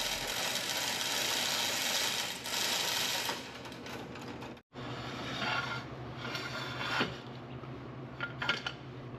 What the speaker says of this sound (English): Now we'll go the opposite way and raise the deck all the way up so that we can access the blades.